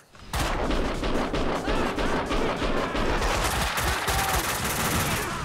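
Dense, continuous gunfire from the video game Max Payne, loud and close, with rapid overlapping shots sustained almost without pause after a brief quiet start.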